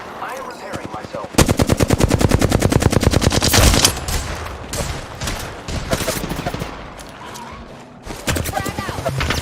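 Rapid automatic gunfire from Call of Duty: Modern Warfare II bursts loud and close in sustained rattling volleys, then thins to scattered shots and returns in another burst, with in-game voices calling out between them.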